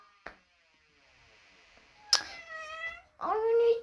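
A pet cat meows twice, close and fairly loud, with rising and falling tonal cries after a short click, over a quiet indoor background.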